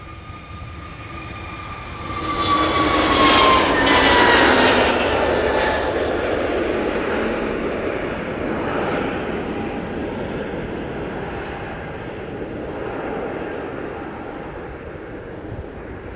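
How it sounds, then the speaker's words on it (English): An Airbus A321neo takes off from Manchester bound for Malaga, its engine roar swelling sharply after a couple of seconds with a falling whine, then easing into a steady, slowly fading rumble. "And that's off to Malaga, that A321neo."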